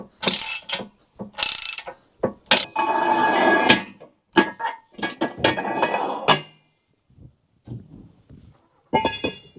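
A ratchet removes a bolt on a tractor: close, sharp bursts of rapid metallic clicking in uneven short runs, separated by pauses and a few knocks, with one longer ratcheting stretch early on.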